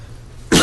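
A single sharp cough bursts out abruptly after a quiet stretch in a borough assembly meeting room, loud and close to the microphone.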